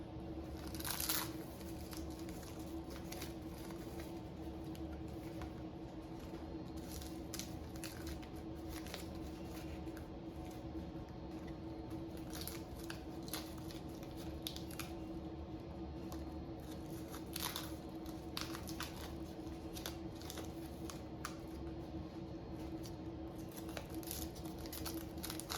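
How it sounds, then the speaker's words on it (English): Papery husks are peeled off raw tomatillos in a series of quiet, close crinkles and soft tearing rustles, scattered irregularly over a faint steady background hum, with no voices. "So I'm going to peel the tomatillos. So you just take out the outer leaves."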